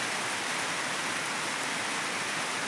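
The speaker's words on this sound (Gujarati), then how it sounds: "અને વરસાદ આવી ગયો છે આ તો અચાનક માવઠું આવી ગયું" Sudden unseasonal winter rain falls in a steady, dense hiss, broad and even throughout with no voices over it.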